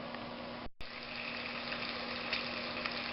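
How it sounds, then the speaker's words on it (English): Food sizzles steadily in a pan on a Dpower stove, a dense continuous frying hiss broken once by a brief cut, with no talk. "we got some good sizzling going on"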